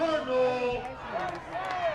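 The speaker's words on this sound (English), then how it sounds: "Hear the crowd voicing their approval" A crowd at a high school football game between Eudora and Tonganoxie cheers in approval, a swelling roar of voices mixed with shouts, near and fairly loud, rising and falling over two seconds.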